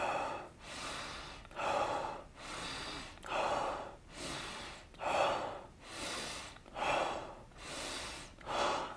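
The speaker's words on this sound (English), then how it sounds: "chest breathing, is someone expanding into the top of the chest, not moving the belly" Exaggerated chest breathing is performed up close, with about eight loud, rhythmic breaths, each a forceful gasping inhale followed by a breathy release, evenly spaced and with no talking.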